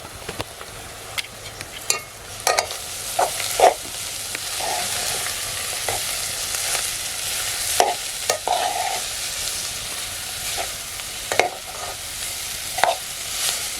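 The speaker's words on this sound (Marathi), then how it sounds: "चांगलं मिक्स करून घ्यायचं आणि परतवून घ्यायचं" A browned onion and garlic mixture sautés with wild pevla vegetables over a wood-fired stove, sizzling steadily under frequent sharp scrapes and knocks of a spoon stirring against the pan.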